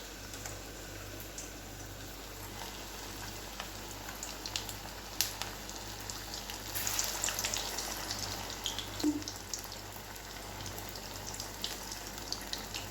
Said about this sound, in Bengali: আর এটাতে ভাজছে আলুর চপ